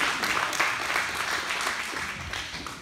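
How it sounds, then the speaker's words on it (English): A church congregation claps hands in applause while being seated, a dense, continuous patter of many hands at moderate loudness that tapers slightly toward the end. "Give God a hand clap as you're being seated."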